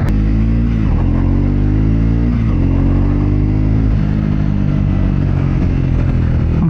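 Triumph Scrambler 400X motorcycle engine on a test ride, a steady loud single-cylinder drone with rising and falling revs and a few brief throttle dips, continuous throughout with no talking.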